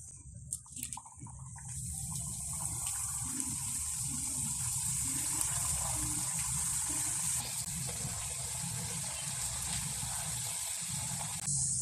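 Lentil thattai frying in hot oil in a pan gives a continuous, fairly faint sizzle and bubbling hiss that holds steady after a brief start, with no talking.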